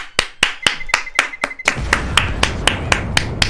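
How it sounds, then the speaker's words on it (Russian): Steady hand clapping, about a dozen evenly spaced sharp claps, close and clear, then continuing more faintly under a rushing broadband noise. "аплодисменты, аплодисменты, пожалуйста"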